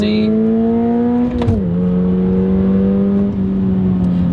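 A Toyota GR86 engine pulls hard under load, a loud steady drone that climbs, dips briefly at a shift, then settles into a strong sustained note close up.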